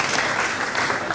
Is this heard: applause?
yes